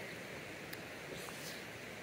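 Steady broadband rush of a waterfall in a natural setting, a faint, even wash of falling water with no breaks and no voices.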